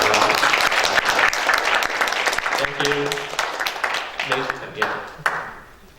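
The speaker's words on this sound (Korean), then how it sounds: "우리 같이 일어나주시면 우리 함께 박수를 환영하겠습니다" Enthusiastic applause from a standing church congregation, steady clapping that thins out and fades toward the end, with a few scattered claps lingering.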